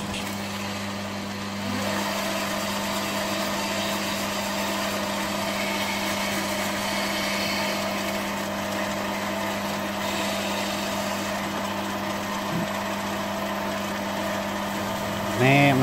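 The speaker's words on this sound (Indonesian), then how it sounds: "Ini mesin bubut bisa bolak-balik ya, tinggal kita putar aja switchnya sebalik, udah balik." A metal lathe turns a PTFE valve chamber part during fine sandpaper polishing, giving a steady, even motor hum with a constant tonal drone that steps up slightly early on and runs unbroken throughout.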